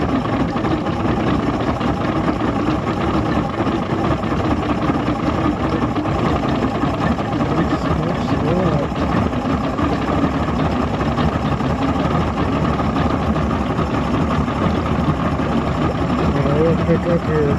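A Sea-Doo personal watercraft idles steadily with a continuous low engine rumble, close and even, over outdoor background noise.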